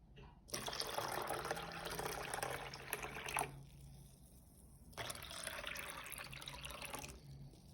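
Alkaline Kangen water pours in two separate streams, each a few seconds long, splashing and filling a glass at close range, with a brief quiet gap between.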